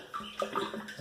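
Water splashing and gurgling as it runs into an aquarium from a mixing-station pump, fairly faint and close, with uneven small bursts of flow through a brief stretch.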